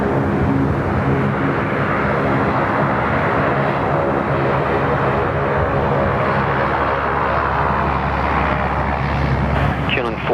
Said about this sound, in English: Jetstar 47, runway 34 left, cleared for immediate takeoff.